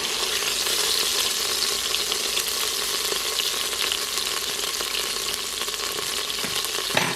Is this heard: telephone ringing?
no